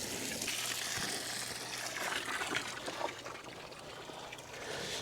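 Water trickles and splashes into a newly finished garden pond beside an aviary, a soft continuous flow at low level with small fluctuating spatters and no voices.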